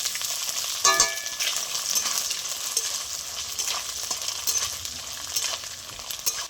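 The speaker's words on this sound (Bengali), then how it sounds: "নারকেলটাকে লাল করে ভেজে নেব।" Chopped coconut pieces fry in hot oil with whole dried chillies and five-spice, a steady close sizzle and crackle broken by a sharp spattering burst near the start.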